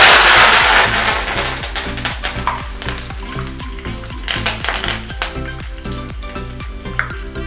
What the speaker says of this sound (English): Similarly, we'll fry this curry leaves.